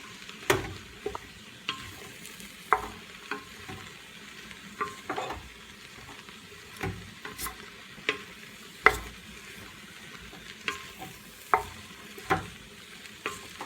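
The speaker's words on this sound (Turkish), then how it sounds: "Şöyle bir karıştırayım." A spoon stirs chopped cabbage and parsley for soup in a pot, light sizzling underneath and intermittent scraping knocks every second or so, close and fairly quiet, with no talking.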